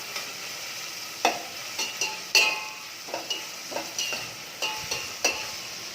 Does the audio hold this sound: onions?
yes